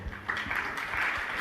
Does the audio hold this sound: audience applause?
yes